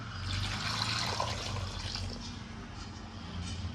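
Water pours steadily into a pot of seven potatoes being boiled for a potato palya, a continuous close splashing fill that runs alone for a few seconds.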